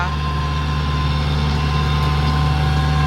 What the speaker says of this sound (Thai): 4508คันนี้เขาก็จะเป็นเครื่องยนต์4สูบค่ะ